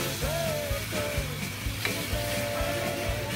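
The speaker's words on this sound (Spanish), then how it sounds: "Ya tenemos el aceite caliente y vamos a poner las brochetas." Chicken skewers go into hot oil in a frying pan, giving a steady, close, crackling sizzle with small pops throughout and no talking.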